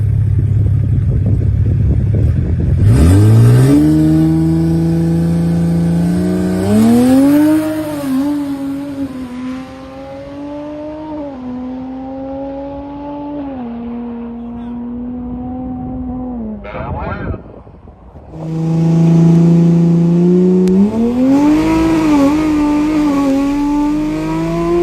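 Toyota Supra with a B58 engine on a drag run, a loud close engine howl rising through the gears with clear shift breaks and a brief lull before it pulls hard again.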